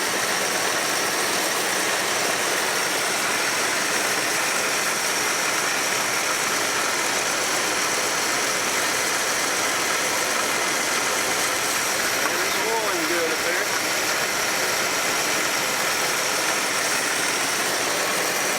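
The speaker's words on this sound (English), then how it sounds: "This thing is smooth and quiet. It's been running about 15 minutes now." A 1964 Barracuda engine runs at a steady, smooth idle for the whole stretch, a continuous even rumble with no lifter noise and no voices.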